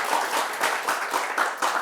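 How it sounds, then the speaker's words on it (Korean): Audience clapping at a Korean talk event with a comedian and broadcaster, a brief burst of applause that stays fairly even, moderately loud and close. "이렇게 하면 보통 박수 한번 나오더라고요"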